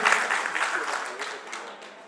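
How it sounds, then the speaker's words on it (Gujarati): An audience claps at a community hall event, dense continuous applause that gradually fades over two seconds. "આપ તાળીઓના ગણગણાટથી વધારવા વિનંતી સમજો"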